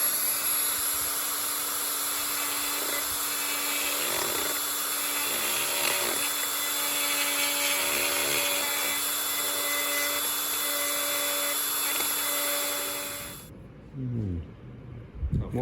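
Power grinder working on the differential of a Toyota Hilux Vigo during an Eaton Harrop E-Locker install, a loud steady high whine with shifting pitch, cutting out near the end followed by brief talk.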